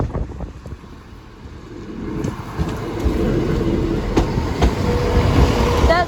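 A delayed train rolls past Sleaford East level crossing, its rumble building from a low start into a steady, close rushing clatter with wind buffeting the microphone.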